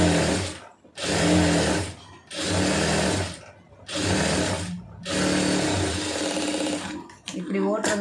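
A sewing machine stitches saree blouse lining in several loud, close runs of fast whirring, each one to two seconds long, with brief stops between them.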